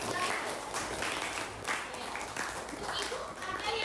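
A classroom audience claps together for a student, a steady patter of applause lasting a few seconds with voices mixed in.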